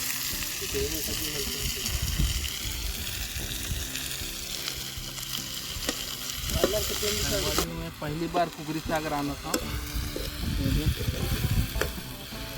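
Onions frying in oil, with steady sizzling and stirring throughout and a person talking over it at times.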